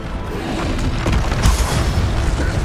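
A Bombarda spell explosion in Hogwarts Legacy on PS5 sets off a loud, rumbling boom that swells and rolls on for a couple of seconds with low crackling debris.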